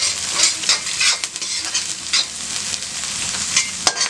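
Capsicum strips stir-fried in a pan for vegetable cabbage Manchurian, a steady close sizzle with repeated scraping stirs, no voices.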